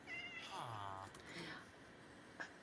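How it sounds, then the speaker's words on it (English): A pet cat meows near and clear, with rising and falling harmonic tones and a brief chirp at the end, alongside a woman's soft speech. "You are a pretty cat."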